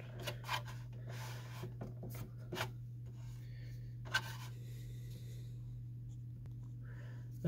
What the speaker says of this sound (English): we're going to take a flathead screwdriver and we need to remove this cover on the side